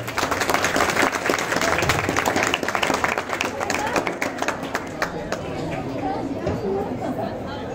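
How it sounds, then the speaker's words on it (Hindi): Parents clap continuously, scattered and lively, at a Montessori school's annual sports day, with chatter and voices mixed in throughout. "पेरेंट्स प्लीज तालियां बजती रहे।"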